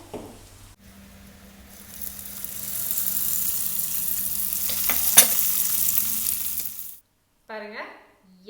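Spring rolls fry in hot oil, the bubbling hiss swelling and holding steady for several seconds before cutting off abruptly, followed by a brief voice.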